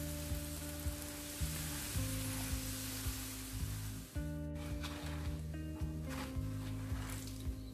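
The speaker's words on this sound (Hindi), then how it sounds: "इस तरीके से पराठे सेकेंगे तो अच्छे सिकते हैं" A radish paratha sizzles and fries on a hot pan, a steady crackling hiss with a few soft thumps as it is turned, close and even throughout, with no voices over it.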